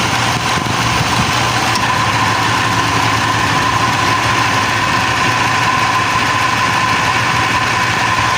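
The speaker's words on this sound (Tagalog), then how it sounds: "papakita muna natin sa inyo na nag-automatic yung compressor" A car air-conditioning compressor cycles on automatically while the engine idles. A steady, close mechanical drone with a constant whine holds evenly throughout, and no one speaks.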